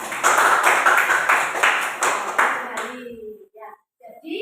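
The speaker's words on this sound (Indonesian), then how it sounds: "tepuk tangan untuk Mbak Nova" A school class claps for a student, crisp and close with distinct hand strikes for almost three seconds before fading out, followed by a brief murmur of voices.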